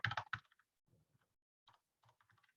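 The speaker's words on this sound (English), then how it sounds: "So I'll just type that here." Computer keyboard typing: a quick burst of several crisp key clicks up front, then a pause and a few softer, scattered keystrokes, close and quiet, with no voices.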